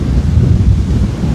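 Strong cyclone wind roars continuously on the Jaffna coast, a loud, steady low rumble buffeting the microphone with a sound like crashing surf, no voices.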